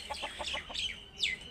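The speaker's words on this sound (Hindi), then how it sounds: "ये जी मुर्गा देखो जी कैसा खूबसूरत है, ये मुर्गी भी साथ है इनके।" Farmyard chickens, a hen and a rooster, give a quick run of close clucks ending in a rising squawk, heard plainly with no talk over it.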